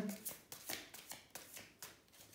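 Oracle cards are shuffled and drawn by hand in a quiet room: a string of soft, papery riffles and flicks in an uneven rhythm, close and faint, with no talk over them.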